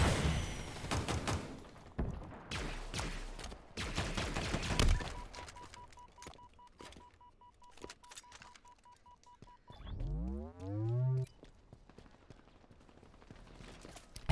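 Assault rifle fire in a video game comes as dense bursts of loud shots over the first few seconds, followed by a steady electronic beep and a rising, whooping synthetic sweep near the end.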